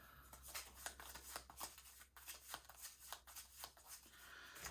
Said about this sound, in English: Just shuffle them up so I don't know which is which.